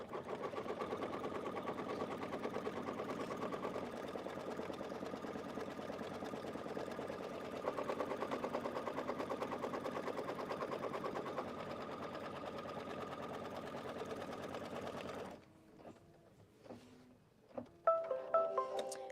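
Sewing machine running steadily as it stitches down fabric for a Kimberbell Cuties project, a fast even mechanical whir for about fifteen seconds, then stopping, followed by scattered small clicks and handling noises.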